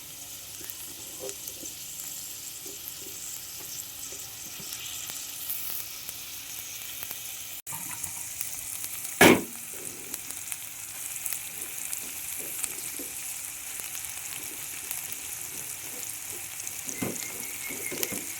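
Chopped onion hits hot oil in a pan for a quick prawn biryani, giving a steady close sizzle with a sharp louder burst midway, then continued frying crackle with no voices.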